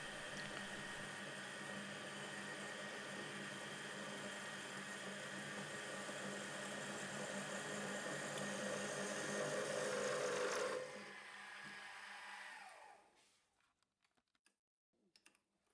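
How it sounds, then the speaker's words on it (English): A centre drill grinds steadily into metal while making a part for a Honda NC750X, a continuous whirring machine drone lasting about eleven seconds, then easing down and spinning to a stop, followed by a few faint clicks. "I'm using a centre drill just to make sure I get the drill in exactly the right place"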